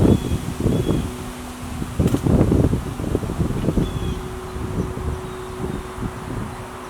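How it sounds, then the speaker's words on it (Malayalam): Strong wind blows outdoors near a house garden in the evening, a broad rushing roar with gusty swells and rustling bursts, loudest early then steady and fainter, with no voices. "നല്ല കാറ്റ് വീശുന്നുണ്ട് കേട്ടോ"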